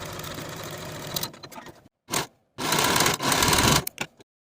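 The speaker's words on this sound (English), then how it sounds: "Sew with a 5/8 inch seam allowance and finish your seams" A sewing machine stitches a velvet sleeve seam in short close bursts of rapid mechanical whirring, stopping and restarting several times with brief silences between runs.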